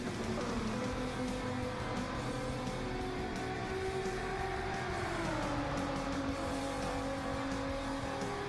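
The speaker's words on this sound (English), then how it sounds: "These two black and green cars about to battle it out." Race cars battling wheel to wheel at Spa in Gran Turismo 7, engines droning loudly and steadily, with one engine note dropping midway as a gear shifts and faint tire noise underneath.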